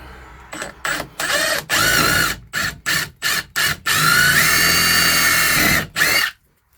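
A power drill whirs in repeated short bursts, then runs in one long sustained spin before stopping while drilling a hole in an RV trailer's exterior wall, close and loud, with no talking.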